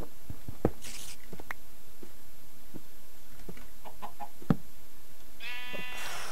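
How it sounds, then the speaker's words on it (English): Farm animals in the Minecraft video game make short sounds scattered through a quiet scene: sheep bleats, chicken clucks and small clicks. A brief rising bleat comes near the end, and no one talks. "Oh, I hear chickens and sheep."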